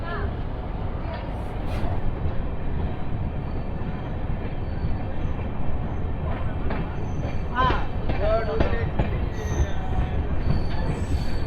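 The 12603 Charlapalli Superfast Express from MGR Chennai Central to Charlapalli runs loud and close near Sullurupeta station, a steady rumble with squealing wheels and clattering rail joints throughout.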